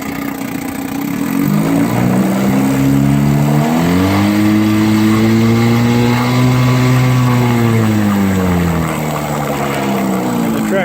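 A 1959 Gale Sea King 5hp outboard motor runs in a test tank, its loud, close engine drone rising in pitch, holding steady at higher revs, then dropping back down.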